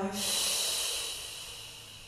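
A long, hissing breath is drawn through the nose and let out through the mouth during a Pilates warm-up. It rises quickly, stays loud and close, and fades slowly, and a voice is faintly heard at the start.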